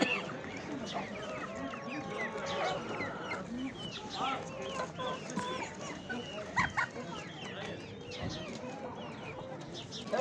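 Roosters cluck and squawk repeatedly at close range amid a busy poultry market, with people talking underneath the birds throughout.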